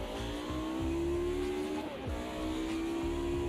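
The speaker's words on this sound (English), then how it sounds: "Warming up my rear tyres." Engine drone of a sim racing game car with a steady tone, rising into sustained tyre squeal as the rear tyres are warmed up before qualifying, loud and continuous with no talk.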